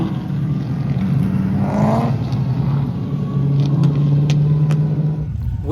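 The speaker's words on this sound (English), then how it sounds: "There's drifting happening behind me." Cars drifting on a hot race track produce a continuous rumble of engines and rising revs, heard from a moderate distance against steady background noise, with no talk.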